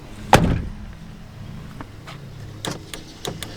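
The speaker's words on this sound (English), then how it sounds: "I can hear the actuator working in that one, but it doesn't push the lock up" A door lock actuator in a 7.3 truck door that runs but fails to push the lock up gives a sharp thump at the start, followed by faint scattered clicks and a few brief mechanical knocks near the end, with no talking.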